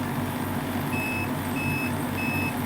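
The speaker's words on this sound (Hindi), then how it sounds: "ये हमारे मीटर का बीप है।" An electrical meter gives three short, thin beeps at even intervals during repair of an LG split air conditioner, heard over a loud, steady machine drone.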